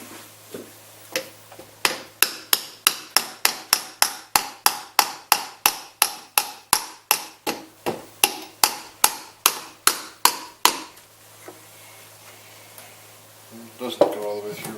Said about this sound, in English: we'll try taking a small hammer and tapping that out